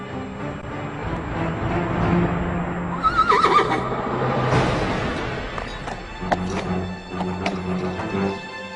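A horse whinnies loudly and close by in a historical drama scene, with clattering hooves and shuffling around it.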